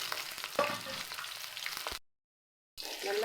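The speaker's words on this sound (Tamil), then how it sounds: "நல்லா சிம்மில் வச்சு நல்லா வறுத்து எடுத்துக்குவோம்" Bitter gourd fries in oil on low heat with a steady soft sizzle and occasional stirring clinks, cut by a short silent gap before the frying resumes.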